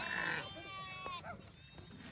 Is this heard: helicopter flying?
no